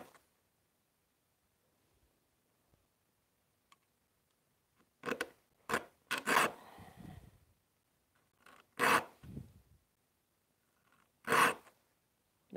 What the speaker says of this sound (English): you actually feel the file as you're filing